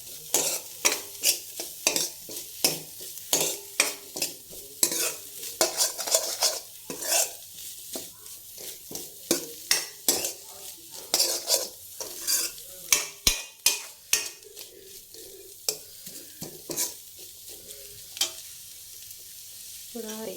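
Chicken soup is stirred in a pan, with a rapid series of close metal clinks and scrapes from a utensil against the pan over a soft simmering sizzle, the strokes uneven in rhythm.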